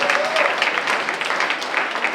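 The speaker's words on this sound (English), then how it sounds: "Can we give RTA a round of applause" An indoor audience gives a round of applause for the RTA at an evening public meeting, a steady, dense wash of clapping from many hands that holds evenly throughout with no voices over it.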